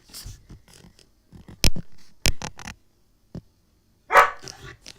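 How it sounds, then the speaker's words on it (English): Several sharp, loud dog barks ring out close by, with quieter yelps and shuffling in between, ending in a burst of growly barking. "My dog wants to let out."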